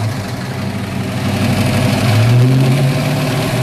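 A car engine idling steadily up close, then its pitch rises as it revs gently toward the end, loud and steady with no talk.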